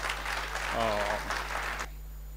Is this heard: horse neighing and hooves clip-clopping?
no